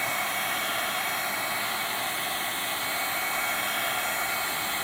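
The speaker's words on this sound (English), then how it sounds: "this heat gun is pretty hot" Heat gun on its high setting blowing hot air over wood burn paste, a steady, loud broadband rushing hiss that holds unchanged throughout with no talking.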